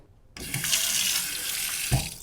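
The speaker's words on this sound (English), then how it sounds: "So I'm going to get the water flowing." A sink tap runs water to rinse paint brushes in a makerspace, a steady, close, full splashing stream that starts suddenly and continues for about two seconds with a brief thump near the end, no voices.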